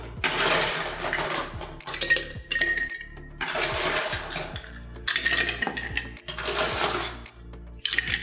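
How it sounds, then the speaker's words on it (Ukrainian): Ice cubes clatter and clink into a mixing glass holding gin and dry vermouth in several bursts, bright rattling scoops separated by short pauses, close by. "Додаємо лід."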